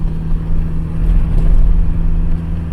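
A Ford Cortina MK3 with a Pinto engine and A4LD automatic gearbox drives under load, giving a steady, loud mid-pitched engine drone mixed with wind noise from an open window.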